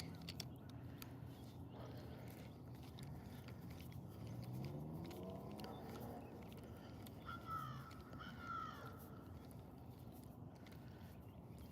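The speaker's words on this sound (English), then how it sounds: "This crow sounds like a person yelling." A crow caws a few times in the distance at a backyard pond, faint over a constant low rumble of engine and water noise.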